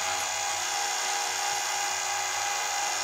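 A chain sharpener grinds a chainsaw chain with a steady, high-pitched whine that holds unbroken and fairly loud throughout, with no talking.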